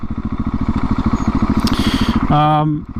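A 2020 KTM 690 SMC R motorcycle engine under riding gives a fast, even single-cylinder thumping, loud and near, then a brief steady rising tone near the end.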